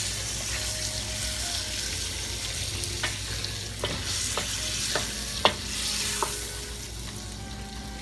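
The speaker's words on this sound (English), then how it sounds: "Now I'm going to pour the egg in." Beaten egg hits a hot pan while making shrimp fried rice, giving steady loud sizzling and frying with scraping stirring strokes and occasional clinks, no voices.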